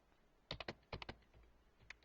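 Fingers tap a computer keyboard in two quick bursts of three keystrokes, followed by a single final press, crisp and close but very quiet.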